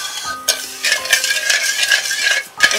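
Brisk stirring of sugar syrup with water in a wok for khurma snacks, loud close scraping strokes in a quick continuous rhythm.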